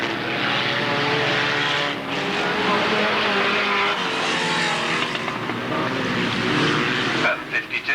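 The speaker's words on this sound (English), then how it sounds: "And this is the bangers display for the afternoon." Banger racing cars roar around an oval track at a race meeting, giving a loud, continuous engine din that swells and fades slightly as the pack passes. A commentator's voice carries over the noise.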